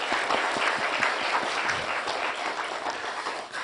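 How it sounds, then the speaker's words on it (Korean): Steady, dense applause from a large church congregation, sustained for several seconds with no voices rising above it. "우리 격려의 박수 한번 해주시기 바랍니다"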